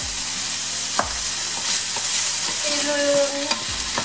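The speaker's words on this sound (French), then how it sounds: "Donc je vais le faire frire des deux côtés le mieux que je peux" Tempeh frying in olive oil with tamarind sauce, a loud, steady sizzle and crackle, broken by a few sharp knocks and scrapes of a utensil against the pan.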